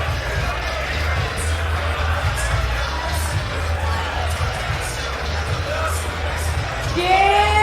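A crowd at a St Patrick's Day chessboxing event cheers and whoops as a boxer steps into the ring, a loud continuous roar with whistles and shouted voices, plus a booming announcer voice over the noise.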